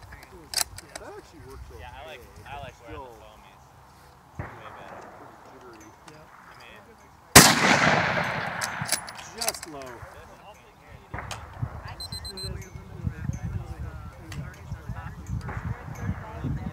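A single sharp rifle shot cracks loudly at a 5-inch steel plate 330 yards away, between stretches of talking and shuffling, with a few fainter knocks elsewhere.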